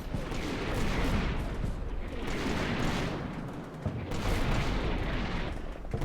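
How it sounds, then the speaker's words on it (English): In a video game, a mortar barrage pounds the area with a sustained, loud roar of overlapping explosions. The rumbling blasts surge and ease in waves without a break. "Wow, that's a mortar barrage and a half."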